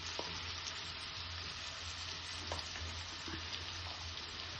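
Egg and tomato fry in a pan over lowered gas with a steady, soft sizzle, broken by a few faint clicks of a utensil stirring, and no voices.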